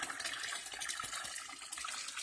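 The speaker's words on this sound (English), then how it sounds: "I got fresh well water coming in constantly" Fresh well water pours steadily into a crawfish trap, giving a continuous close-up splashing and trickling.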